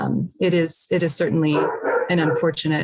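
A dog barks and yips in short bursts close by, overlapping a person speaking continuously during a public health talk.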